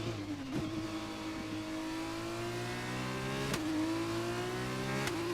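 Formula 2 racing car from the F1 2021 video game at the Bahrain circuit, its high-revving engine whining steadily with upshifts and brief pitch drops, loud and close with no talking.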